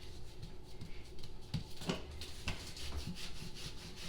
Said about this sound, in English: you want to flour your board, and you're going to roll out your dough 1/4 inch.